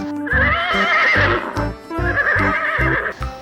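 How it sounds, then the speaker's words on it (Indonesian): A white toy horse gives two loud, wavering whinnies, each followed by a rhythmic run of clip-clop hoofbeats, close and clear with no talking. "Wow, ada kuda warna putih nih teman-teman"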